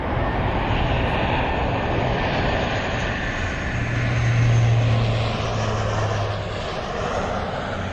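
Steady, loud drone of a propeller aircraft engine in the Microsoft Flight Simulator game, holding a constant level throughout and swelling a little in the middle, with no talk over it.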